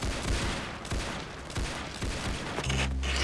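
Rapid bursts of gunfire crackle in the online shooter game Arsenal, with overlapping shots forming a dense, loud fusillade and a heavier impact near the end.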